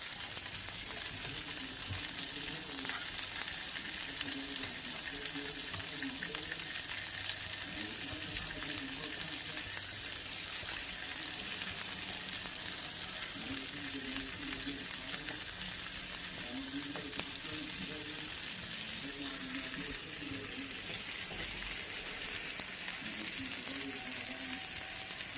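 Brisket sears in a hot pan with a continuous crackling sizzle, steady and close throughout, with occasional stirring or shifting sounds.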